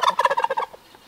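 A tom turkey in a backyard coop gives one rapid, rattling gobble, close and loud, fading out after well under a second with nothing else around it.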